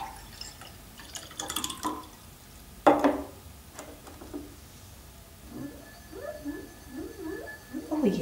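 Water trickles and splashes into a glass in short, uneven bursts, with a few faint rising gurgles toward the end; fairly quiet and close.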